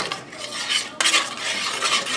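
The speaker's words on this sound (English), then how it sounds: "We're going to heat it over low to heat. Stir it all up real good here." Chicken wing sauce being stirred in a pot over low heat, a short burst of brisk swishing, scraping spoon strokes with a sharp clink at the midpoint, close and clear without speech.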